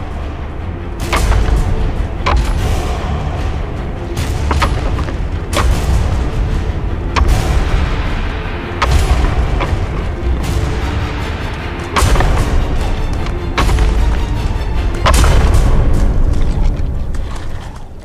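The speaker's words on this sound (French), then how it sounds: "Un combat pour ses faveurs s'engage. L'issue de la bataille se décide à coups de tête." Male animals butting heads in a mountain fight for a female, heard as a series of loud, sharp booming cracks at irregular intervals, each a heavy impact standing alone without talk.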